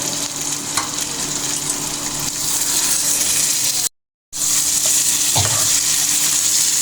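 Fried potatoes tipped into sizzling chicken curry, a loud, close, continuous frying hiss with occasional stirring scrapes and a brief dropout in the middle, no voices.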